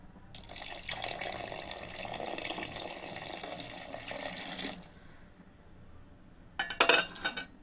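Water pouring steadily into a pot of lentils being cooked for sambar, a continuous splashing stream for several seconds that stops, followed by a brief metallic clink of the pot.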